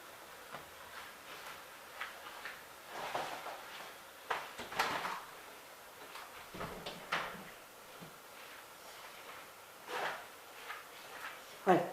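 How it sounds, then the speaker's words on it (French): A French window is closed indoors, making faint scattered knocks, a soft sliding rattle and a final latch click over a quiet room, with occasional faint voice-like sounds. "Alors je vais fermer ma porte-fenêtre"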